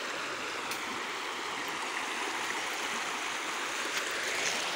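River water flowing steadily over sand and gravel near a mining prospecting site, a continuous broadband rush with no voices, even and close throughout.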